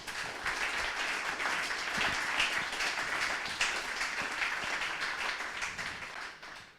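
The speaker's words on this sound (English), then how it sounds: "So big round of applause for our partners" At a space-industry opening ceremony, an audience claps for partner organisations including Airbus, OHB and the European Space Agency; dense, fairly distant applause holds steady for several seconds, then tapers off.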